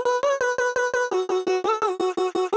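Chopped vocal samples with no effects play as a rapid, evenly spaced stutter of short sung syllables, about six per second, loud and dry, in a liquid drum and bass production.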